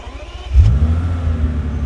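A 6-litre W12 engine in an older Bentley Continental GT cranks and fires into a loud, deep, close rumble that settles into a steady idle.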